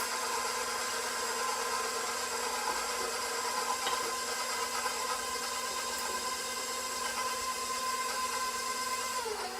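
An electric mixer whirs steadily as it beats king cake batter with eggs and melted butter, a constant even motor drone with no break in the run.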